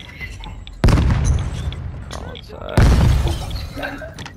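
Gunfire in a tactical shooter video game comes as two loud, sharp bursts about two seconds apart, booming and crackling over constant game noise while players talk.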